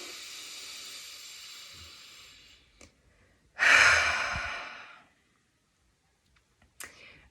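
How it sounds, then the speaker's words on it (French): During a guided meditation for letting go, a person breathes out through the mouth, giving a long airy exhale close to the mic that fades away. A second, stronger exhale follows after a short pause, with soft breath noise at the end. "On inspire. On expire par la bouche."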